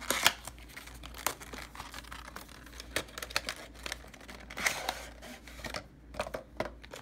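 Taped packaging of a Tumi Power Pack battery accessory being opened by hand, with close, continuous crinkling and rustling and brief tearing bursts of tape and paper, fairly quiet and with no talking.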